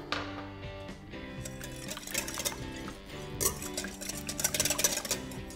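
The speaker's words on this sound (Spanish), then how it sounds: "Sigo mezclando y chocolate derretido." Gluten-free brownie batter with yogurt and vanilla is stirred in a bowl, giving continuous scraping and clinking of a utensil against the dish. The stirring quickens and grows busier toward the end.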